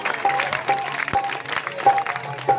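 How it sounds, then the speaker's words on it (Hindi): Audience clapping hands at a Hindi night-time jagran devotional gathering, a short burst of scattered applause with a few sharp claps standing out, steady and moderately loud throughout. "एक बार दोनों हाथ उठा के ताली बजा के आशीर्वाद दीजिए"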